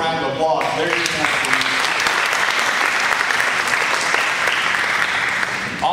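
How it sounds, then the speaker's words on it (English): An audience at a city council meeting gives a sustained round of applause, dense and loud clapping from a crowd that carries on for several seconds after a brief spoken introduction. "So let's give them a round of applause."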